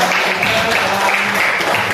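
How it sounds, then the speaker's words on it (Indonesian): Classroom applause for a student group in an Indonesian social studies lesson, a brief burst of clapping from pupils in a reverberant room. "tepuk tangan dulu kelompoknya"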